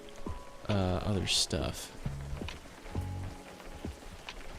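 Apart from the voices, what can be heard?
rain falling in a fishing video game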